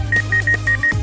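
A sewing machine's low-oil warning alarm sounds in a rapid series of short electronic beeps, five evenly spaced pulses over a steady low machine hum.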